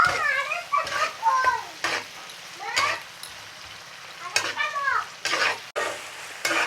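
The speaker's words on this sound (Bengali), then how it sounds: "এখন আর একটু ভেজে নেব।" Shing fish frying with chili powder, a steady sizzle under repeated meowing from a nearby cat and stirring noises, with some background voice.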